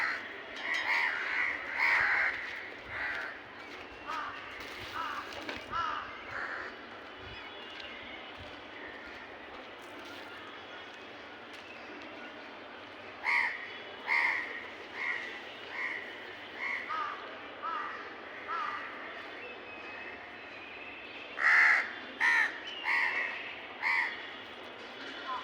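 Crows cawing outdoors near a feeding spot with water, harsh repeated calls in clustered bursts at the start and again in the second half, loud and fairly close over a steady low background hum.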